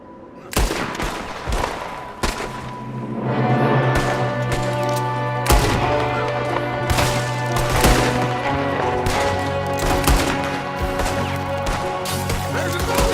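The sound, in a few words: gunfire in video game Red Dead Redemption 2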